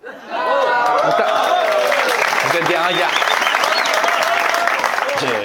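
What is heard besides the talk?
comedy audience applauding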